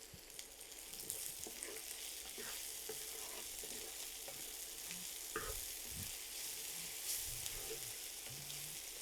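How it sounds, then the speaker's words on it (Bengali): Garlic and onion fry in a pan with a steady sizzling hiss, broken by a few low knocks and scraping stirs of a utensil against the pan. "রসুন এবং পেঁয়াজটাকে ভেজে নিয়েছি"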